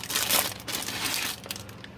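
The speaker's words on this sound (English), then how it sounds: "I'm going to take all of these out of the plastic bags that they came in" Plastic bags holding sponges for pottery work are crinkled and torn open close by, a steady run of dense crackling and rustling with no talk.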